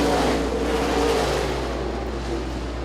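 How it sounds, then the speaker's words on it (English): Race cars in an I-96 heat race roar steadily around the track, a loud continuous engine drone with slight swells as the pack passes. "Devin Shields, your race leader in the 51 car."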